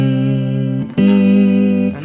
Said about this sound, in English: going straight into this Fender amp with a bit of reverb